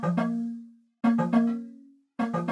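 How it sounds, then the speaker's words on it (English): First log drum pattern from a song: pitched, tonal drum hits with a strong low fundamental and ringing decay, played in short phrases of two or three notes separated by gaps, clear and alone. "we have a couple more log drum patterns going on later on in the song"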